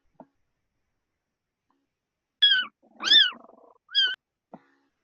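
A domestic cat makes a few short meow-like calls, three clear calls in the middle with faint clicks before and after, heard alone during a Zoom class.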